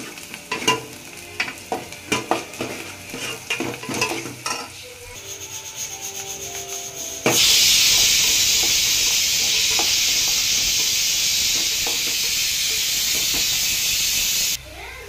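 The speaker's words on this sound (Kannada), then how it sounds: "ಈರುಳ್ಳಿ ಬಂದ್ಬಿಟ್ಟು ಗೋಲ್ಡನ್ ಕಲರಲ್ಲಿ ಬರಬೇಕು. ಸ್ವಲ್ಪ ಚೆನ್ನಾಗಿ ರೋಸ್ಟ್ ಆದರೆ ಚೆನ್ನಾಗಿರುತ್ತೆ." Chopped onions for vegetable sambar are roasted in a pan until golden, first with scraping stir strokes and light sizzling, then a loud, steady frying hiss that holds for several seconds before cutting off.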